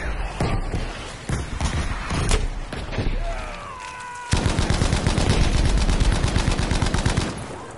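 Battlefield V video game gunfire: scattered loud shots, then a sustained rapid machine-gun burst that rattles on for several seconds, close and forceful.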